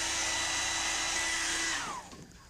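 A regular hairdryer blows heat over plastic window insulation film to shrink it tight: a steady close whirr and hum that winds down and fades as the dryer is switched off near the end.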